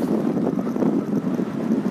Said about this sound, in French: Il y a un petit peu de vent, mais c'est pas grave.